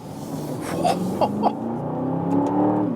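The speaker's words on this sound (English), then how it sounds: "Screaming from that exhaust." Aston Martin DBX SUV exhaust screaming as it accelerates hard uphill on a mountain road, a loud, steady engine roar rising in pitch throughout with a few sharp crackles.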